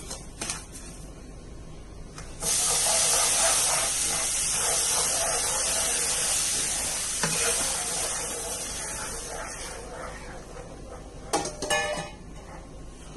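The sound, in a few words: stirring rava with hot water to thicken kesari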